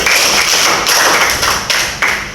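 A class of students claps in unison three times as part of a classroom game, each group clap a sharp, loud burst from many hands, spaced about a second apart and close by.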